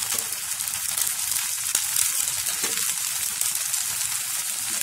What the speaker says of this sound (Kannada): ಮುಚ್ಚಿಟ್ಬಿಟ್ಟು ಮೀಡಿಯಂ ಫ್ಲೇಮ್ನಲ್ಲಿ ಚೆನ್ನಾಗಿ ಫ್ರೈ ಮಾಡ್ಕೊಳ್ಳಿ.